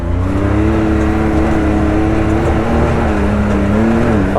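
An off-road vehicle engine revs hard and steadily while climbing a big hill on tight trails, a loud sustained drone with rising and falling pitch throughout.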